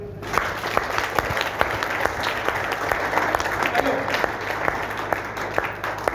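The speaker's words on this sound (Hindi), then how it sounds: "एक बार ताली बजाओ।" An audience in a seminar hall claps once on request, producing a continuous spread of many hands clapping at moderate level with sharp individual claps standing out, steady for several seconds.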